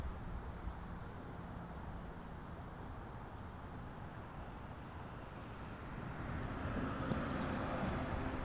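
RJ 900 regional jet airliner at Toronto Pearson airport, a faint, distant broadband jet roar that slowly builds and grows louder toward the end.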